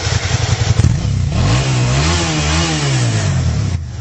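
A Suzuki Gladius 650 motorcycle engine with standard exhaust revs up loudly and close, its lumpy low idle rising into a sustained, wavering roar that holds steady.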